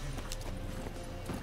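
Horse hooves clip-clopping in The Witcher 3: Wild Hunt, a steady close rhythmic patter of steps filling the moment with no talk over it.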